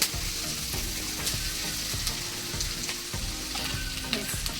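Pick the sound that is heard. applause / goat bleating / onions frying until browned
onions frying until browned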